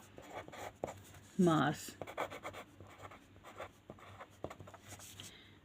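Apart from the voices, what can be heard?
writing on paper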